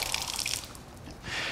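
A tap runs in a sink during hand washing before drawing up a syringe, a steady close hiss of flowing water with a few drips, then it is turned off as the flow briefly changes character.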